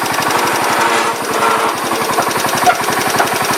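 A Ford LGT 125 lawn tractor engine runs at a low, rough idle, a loud, close, rapid even chugging pulse throughout with no voices.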